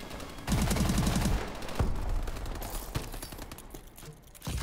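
Dense bursts of gunfire from the video game Call of Duty: Advanced Warfare during a capture-the-flag multiplayer match, with a rapid automatic-fire stretch early on, then scattered shots and explosions continuing loudly throughout without speech.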